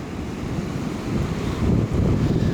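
Heavy ocean surf surging onto a rocky shore in sneaker wave season, a continuous loud wash of water and wind that swells stronger toward the end.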